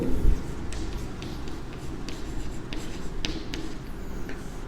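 Pen on paper during a class ten linear equations maths lesson, with faint close scratching strokes and light rustling that run quietly and continuously, with no talk.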